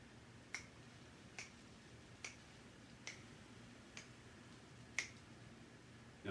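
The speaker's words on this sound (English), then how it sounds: "I'm going to be snapping my fingers to show you my beat" Fingers snap to keep a beat, six crisp evenly spaced snaps about one per second over a quiet room hiss.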